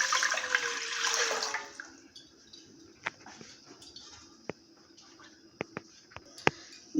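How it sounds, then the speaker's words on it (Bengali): About a liter of water pours into a kadai pan for bhog khichuri, a loud rushing gush for under two seconds that cuts off abruptly, followed by quiet with a few sharp scattered clicks. "আমি এতে দিয়ে দেব 1 লিটারের মতো জল।"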